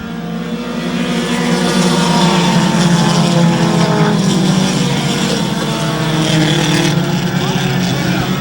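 Dirt modified race cars roar through a restart at Airborne Speedway in Plattsburgh, New York, a loud, continuous pack of engines holding steady throughout, with a commentator's voice running over the din.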